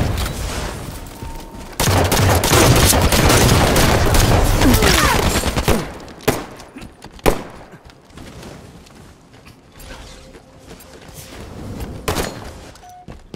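Sustained gunfire exchange in Halo 5 ranked Slayer, a dense loud volley for several seconds followed by scattered sharp shots and thuds at lower level.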